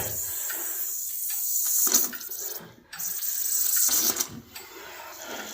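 Pressurized fuel from a 1985 IROC-Z clone's fuel system hisses and sprays into a bucket, a steady loud rush that briefly cuts out and resumes, with spattering drips.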